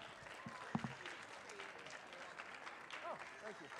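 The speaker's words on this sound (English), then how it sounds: "Let's give all of our showmanship exhibitors a big round of applause." A short burst of clapping from a crowd at a youth fair dairy goat show, fairly distant, with a voice speaking over it.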